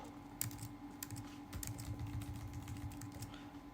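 A computer keyboard clatters with brisk, uneven runs of close key presses, a few sharper single taps standing out, over a faint steady electrical hum; no voice.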